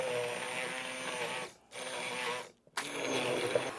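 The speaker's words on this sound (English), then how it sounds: "And I'm going to hit this with a stick blender." A stick blender whirs through a chili, vinegar and olive oil sauce in three close bursts, each a loud steady buzzing drone separated by short gaps of silence.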